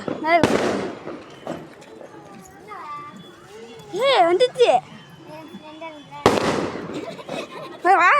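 Firecrackers go off in two sharp, loud bursts a few seconds apart outdoors, while people, including children, talk and shout excitedly in between.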